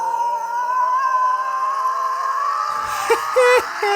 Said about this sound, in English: the build up here is me kind of throat screaming as best as I can